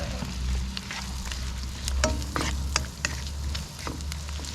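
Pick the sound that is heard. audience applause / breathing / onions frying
onions frying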